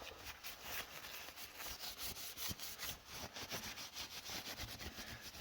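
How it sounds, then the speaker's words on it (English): A rag wipes grime off a bare engine block during prep for painting, making steady, close rubbing strokes that scrub back and forth without pause. "I'm going to wipe the block down just to get that initial, any type of grime on here off"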